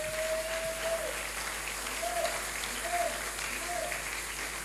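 A church congregation at a French-language sermon claps steadily in sustained applause with a faint crowd murmur, while a soft tone sounds in the background.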